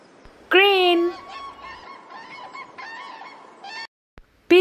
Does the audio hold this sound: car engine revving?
no